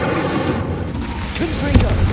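An Incendio fire spell from a wizarding video game is cast, throwing out a dense roaring whoosh of flame with a couple of sharper bursts near the end, mixed with a voice.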